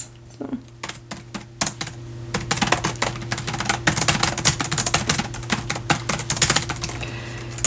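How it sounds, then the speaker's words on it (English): Steady, fast typing on a computer keyboard, close and clear, with dense clicking keystrokes over a low constant hum while someone types out a deleted manuscript chapter. "Alright, so I'm going to start typing in here."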